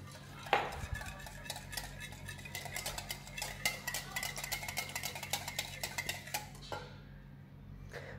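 A hand whisk beats cake batter in a bowl, a fast steady run of light metallic ticks and clinks lasting several seconds before slowing to a stop, close and fairly quiet.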